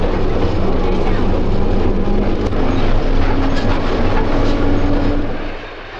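Westbound South Shore electric interurban train running near 130th Street on a very cold day, a loud continuous rumble and rush with a steady hum, fading slightly at the end.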